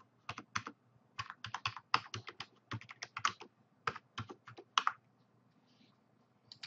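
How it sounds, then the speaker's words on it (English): Fingers type a short burst on a computer keyboard, close and clear, with quick irregular clusters of clicks and brief pauses before the keys fall silent near the end. "or I can just type it."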